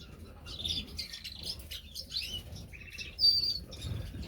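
Caged mandarins and other small birds chirping in a backyard aviary: quick, repeated tweets and short calls scattered throughout, fairly faint, with a soft rustle of movement beneath and no talking.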